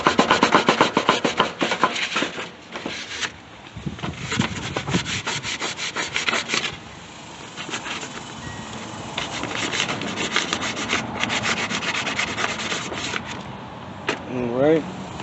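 A riding mower deck spindle from a Yard Machine 14 HP lawn tractor rubbed with 320 grit sandpaper: repeated rapid back-and-forth scratchy strokes in bursts with short pauses, close up, with a brief voice near the end.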